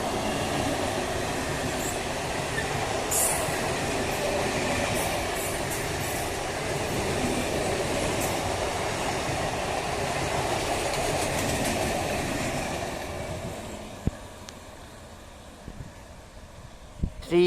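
A Sealdah–Kalyani Simanta local train runs past Kanchrapara station with a loud continuous rumble and wheel clatter that eases off toward the end, leaving scattered clicks and knocks.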